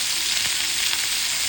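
Ground pork sautés in a pan with onions for giniling in tomato sauce, a loud, dense, unbroken hiss of frying heard up close for a brief moment, with no talking.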